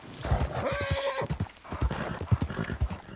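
A horse in Red Dead Redemption 2 gives a sharp, high whinny near the start while its hooves clop in a quick, uneven rhythm on hard ground, close and clear throughout.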